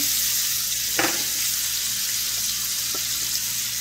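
Crushed garlic frying in a pan on a low stove, a steady close sizzle throughout with a couple of brief stirring scrapes.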